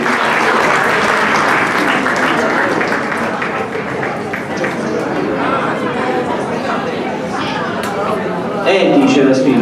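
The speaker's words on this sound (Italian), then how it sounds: "facciamogli un applauso" A crowd applauds for several seconds, clapping mixed with chatter and voices, rising again near the end.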